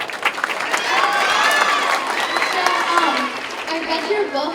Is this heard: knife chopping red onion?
no